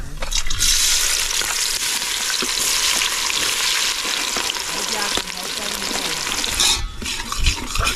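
Oil heating in a cooking pot over an outdoor fire for a village chicken meal, giving a loud continuous close sizzle and fry with scraping stirs, and a brief dip near the end.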